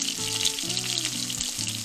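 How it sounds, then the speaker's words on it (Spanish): Fish fillets frying in oil, a constant close hiss and crackle of sizzling over the whole short stretch, with a faint tonal hum underneath and no speech. "Freímos primero 3 y luego seguimos con los demás."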